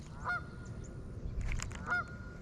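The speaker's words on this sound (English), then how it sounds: "That is the most annoying goose in history, I swear." A goose honks loudly near a fishing spot, two separate harsh honks about a second and a half apart over a steady low background rumble.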